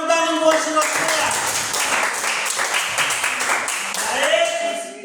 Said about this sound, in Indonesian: Maka tepuk tangan buat si Roslia.